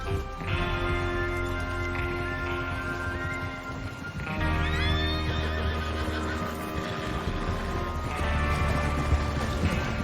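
Horses whinny and neigh repeatedly amid steady clip-clop of hooves in the Western video game Red Dead Redemption 2, several drawn-out calls rising over a constant background of riding and movement.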